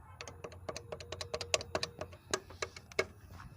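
Rattling from a Platina motorcycle with its seat cover removed: a rapid, irregular series of close, dry clicks and ticks, with no voices.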